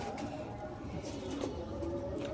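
Pigeons kept as breeding pairs give low, soft cooing calls that sit close and steady over a continuous murmur of background noise, with no talking.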